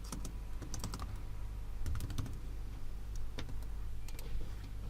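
Rapid, uneven keyboard typing while coding a React component, bursts of close clicky keystrokes over a steady low hum, with no talking.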